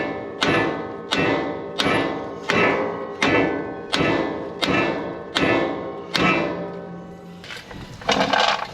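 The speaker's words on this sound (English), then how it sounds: "then we're going to hit the knuckle with a hammer" A hammer strikes the steering knuckle of a 2014 Chevy Silverado 2500HD eight times in a steady rhythm, each blow a loud, close, ringing metallic clang, followed by a brief clatter of handling.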